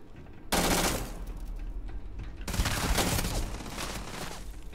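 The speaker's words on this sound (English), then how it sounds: "there's a lot of people shooting" Dense, loud gunfire from many shooters in the open-world space RPG Starfield, a sudden sustained barrage that eases slightly and then surges again in overlapping bursts.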